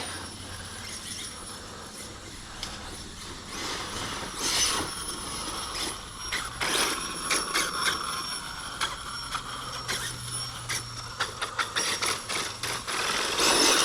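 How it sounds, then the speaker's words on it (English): A Losi 5iveT RC truck set up as an Icelandic Formula Offroad race truck runs with an uneven mechanical whir and rapid ratcheting, cogging clicks from its drivetrain, growing louder and choppier toward the end. "Still got a little bit of ratcheting going on, or cogging going on."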